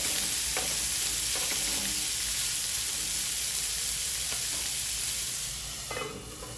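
Mustard-seed tempering with a little tamarind leaf sizzles and crackles steadily in a hot pan while a spoon stirs it, with scattered scraping strokes of the utensil over a dense, continuous frying hiss for a Telugu mixed-vegetable chutney.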